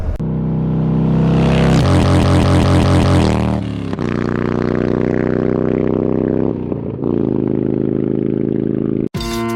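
A Honda Grom motorcycle ridden to work, its small engine loud and close as it revs through rising and falling pitches with gear changes, a brief throttle cut midway and a sudden drop near the end.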